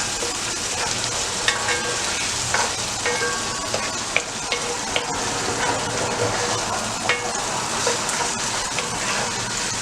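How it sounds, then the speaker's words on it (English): Food frying in a pot for rice jollof with lamb, a steady close crackling sizzle with scattered pops and occasional stirring clicks, without talk. "Fry, fry, fry."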